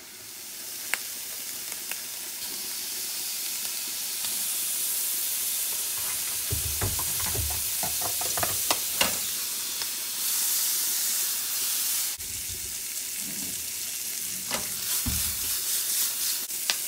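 Shrimp frying in a pan with soy sauce and butter, a loud continuous sizzle and hiss with bursts of stirring and scraping, close and without talk.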